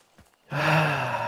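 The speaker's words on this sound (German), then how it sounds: "Nein, du scheiß Pferd." Horse in the video game Hunt Showdown, heard as one loud, sustained breathy snort or whinny lasting most of a second, rising abruptly after near silence.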